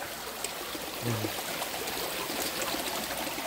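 A small forest stream trickles and gurgles softly in a steady, faint wash of flowing water, with no talk over it.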